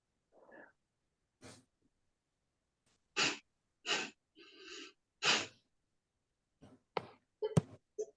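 Slow, deliberate breaths drawn in and pushed out during a guided breathing exercise, a series of soft, breathy bursts separated by pauses, close and fairly quiet with no talking.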